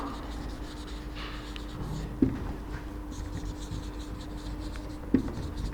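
Something writes on a classroom board in short scratchy strokes, with two crisp taps over a low constant hum.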